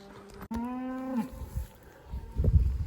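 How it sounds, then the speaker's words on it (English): Cattle bellow during a summer cattle drive in Utah, one long clear moo rising and falling near the microphone, followed by softer lowing and rustling in the background. "So I'll show you what the cows are doing."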